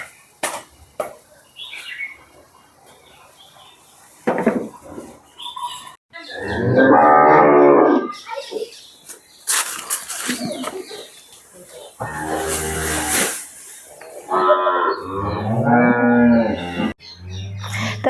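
Cows in a covered cattle shed, sheltered from rain, give several loud, drawn-out moos in separate bursts, close by, with quieter shuffling and faint background sounds between calls.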